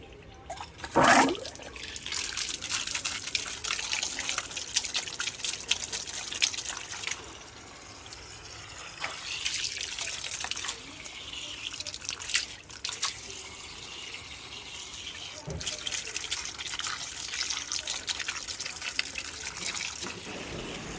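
Water runs from an outdoor tap while small fish are cleaned beside it, a continuous splashing flow close by with sharp spikes of splatter and clatter at moments and shifting intensity, without talk.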